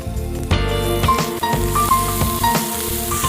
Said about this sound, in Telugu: నానబెట్టుకున్న గ్రీన్ పీస్ కూడా వేసుకొని మనం ఫ్రై చేసుకోవాలి